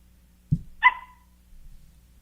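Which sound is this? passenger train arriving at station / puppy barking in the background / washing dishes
puppy barking in the background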